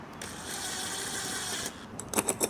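Bolts are run in on a roof rack mount of a 6th-generation Toyota 4Runner, a quiet, steady ratcheting whir from a power driver, ending in a few short separate clicks and bursts.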